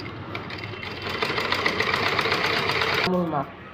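Sewing machine stitching a blouse in one steady, rapid, clattering run up close that cuts off near the end, with a voice speaking after it stops.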